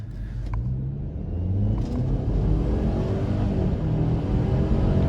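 An Audi Allroad A4 B8.5 accelerates from inside the cabin, its engine note rising in a smooth whirring rumble with a brief dip as it shifts gears, close and steady with no talk.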